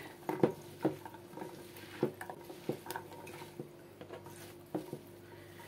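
A spoon stirs lemon juice into okra in a pot, making faint, soft wet swishes and light scraping taps spaced at irregular intervals, with no talk.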